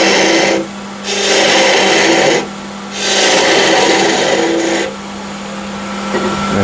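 A wood lathe turns a chamfer on a wooden salt shaker, giving loud, close, broadband scraping bursts of cutting in about three passes, with a steady motor hum running underneath.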